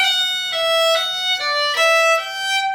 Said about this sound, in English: Here's the mordent.